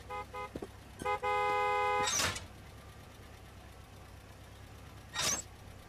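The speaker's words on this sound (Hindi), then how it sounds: "कब से हॉर्न मार रहा है, सुनता नहीं?" Two car horn honks, a short double toot then a long sustained blast, followed by whooshing passes of traffic, with no voices.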